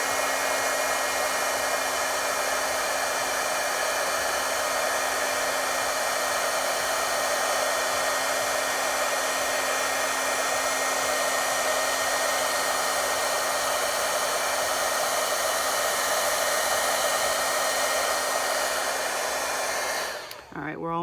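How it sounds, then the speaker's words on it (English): Steady, loud whooshing roar of a heat gun held close while melting embossing powder on card paper, a constant blowing hiss that runs unbroken for about twenty seconds before cutting off abruptly at the end. "make sure the heat gun is pointed away from you because it does get quite hot"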